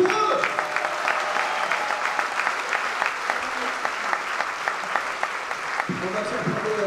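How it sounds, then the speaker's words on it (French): A crowd at the Aviron Bayonnais rugby club's 2025/2026 squad presentation applauds the sports staff with steady, loud clapping throughout, and a voice comes in briefly near the end. "On les applaudit très fort, les copains"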